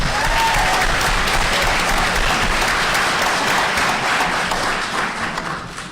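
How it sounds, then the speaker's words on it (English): A forum audience gives a steady, dense round of applause for the candidates, loud and sustained for several seconds before beginning to fade slightly. "if we could all give a round of applause for Houston Barrow, Michael Lee, and Jerry Carter"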